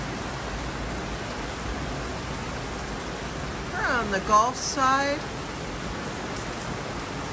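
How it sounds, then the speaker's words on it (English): Heavy rain pours steadily on the Gulf side near Clearwater, Tampa, a constant dense hiss throughout, with someone talking briefly over it midway. "Listen to that rain."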